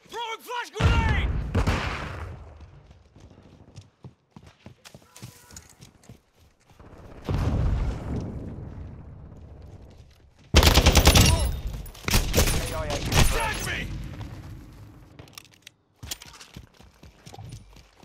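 Grenade explosions and bursts of automatic gunfire in Call of Duty Modern Warfare 2 multiplayer on the Himmelmatt Expo map, loud and close, with several heavy blasts and rattling fire; voices speak over the action at times.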